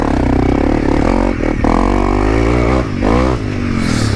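A motorcycle fitted with a Yoshimura plug-and-play full exhaust system runs loud and close, its engine note droning steadily with brief revs and dips, alone without talk.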